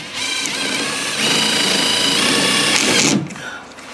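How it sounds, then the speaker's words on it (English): A power drill drives self-drilling screws into a Maxton side skirt diffuser on a 2023 Skoda Octavia Mk4 vRS, whining loudly and steadily for about three seconds, then stopping. "You don't need the pilot bit because these are self-drillers."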